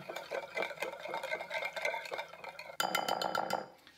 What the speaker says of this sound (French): 5 g de sel, un petit gramme de poivre et 2 tout petits piments. Alors là, vous pouvez en mettre plus si vous le souhaitez. Et ensuite, je mélange le tout.